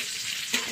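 Cashews and raisins fry lightly in oil in a pan, a bright steady sizzle that jumps louder for a moment as they are stirred.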